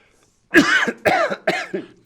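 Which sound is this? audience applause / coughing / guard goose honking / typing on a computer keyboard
coughing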